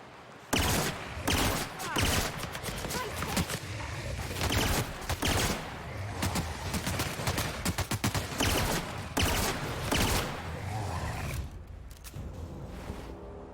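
Bolter pistol fire from MK2 weapons in The Outer Worlds, heard as dense, loud bursts of rapid shots repeating almost without pause, with brief gaps between volleys.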